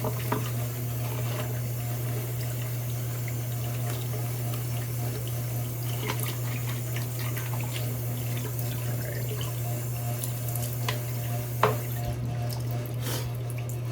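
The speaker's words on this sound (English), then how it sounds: "I'm gonna go ahead and dump the sink of water here because it's all cloudy and not looking very good anyway." Cloudy shaving water drains out of a bathroom sink in a steady, continuous rushing gurgle with a few faint drips near the end, and no voices.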